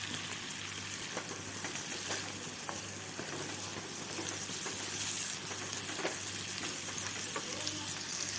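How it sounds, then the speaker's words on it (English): Diced cabbage sautéed with other vegetables for noodles gives a dense, steady sizzle and crackle, with occasional soft stirring ticks. It is close and continuous, with no voices. "Now adding in the 1 cup of cabbage, well diced, and saute it together with the other veggies."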